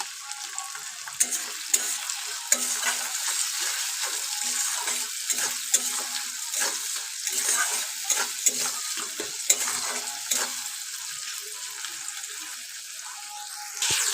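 Tomatoes frying in a pan over deeply browned onions, salted and stirred, giving a continuous close sizzle with sharp, frequent scrapes and clicks of a spatula against the pan, no voices.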